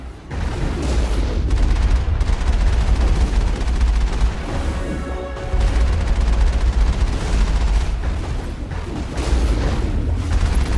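Gunfire in the Mass Effect video game rattles in dense, heavy bursts with deep booming low end, loud and close, continuing almost without pause with a couple of brief lulls.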